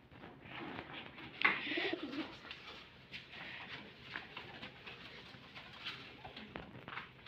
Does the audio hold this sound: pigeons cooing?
yes